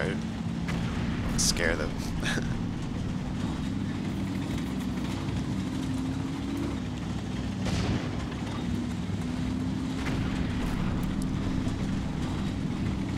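Gunfire and distant artillery from the video game Combat Mission: Red Thunder, with dull booms and scattered shots over a constant low rumble. Someone speaks briefly over the battle.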